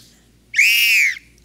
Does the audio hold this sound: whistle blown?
yes